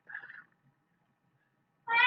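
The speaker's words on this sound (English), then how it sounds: "and that was the cat" A domestic cat meows close by, one short call at the start and another louder meow at the end, with quiet between.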